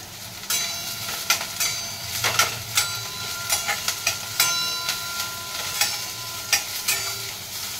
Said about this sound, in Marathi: जशी आपण जिरं मोहरी आणि कांद्याची फोडणी बनवतो त्या पद्धतीने फोडणी देत आहोत